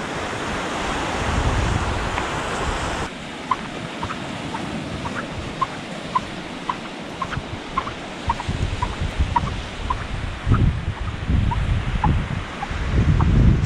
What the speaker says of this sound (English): Sand squeaks.